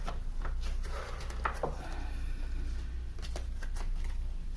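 Mystery tarot cards being shuffled close by, a soft riffling flutter with light taps, fairly quiet with no talking.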